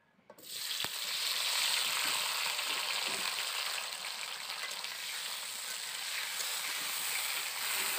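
Chopped tomato hits hot mustard oil and a loud, broad sizzle bursts up almost at once, then settles into a steady, close frying hiss that carries on to the end.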